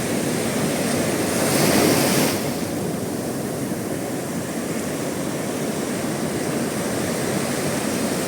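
Rough surf breaking at a beach at Stidia near Mostaganem, a steady close roar of churning waves with a louder surge early on, wind noise over the microphone, no voices.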